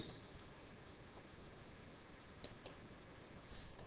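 Two quick computer mouse clicks sound close together against a faint hum while run script is selected in GENESIS32 SCADA software.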